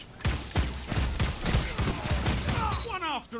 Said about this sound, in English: How fast you can shoot this gun?